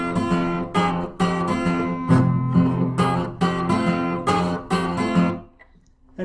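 An acoustic blues guitar plays an E-shape rundown on the high strings, with one finger barred across the top two strings. Bright plucked notes and chords ring close in an uneven phrase, then fade to near silence at the end.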